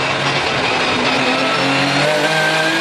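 GT race cars, including a Lamborghini Gallardo and Porsches, racing at Zandvoort, a loud continuous engine roar with rising pitch as cars accelerate past, sustained over the whole stretch.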